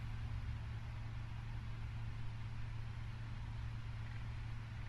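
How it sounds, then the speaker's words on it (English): A Boeing 777F engine number 2 starting up in the Prepar3D flight simulator gives a steady, loud, unbroken jet drone with a low hum that holds level throughout. "start engine 2."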